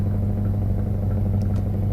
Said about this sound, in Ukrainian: Давайте трішки звук додав я, щоб краще було чутно цей нереально крутий двигун.